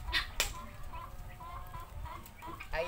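Cemani chickens cluck in short, uneven bursts close by, with some louder calls near the start and end over a steady low murmur of farmyard background.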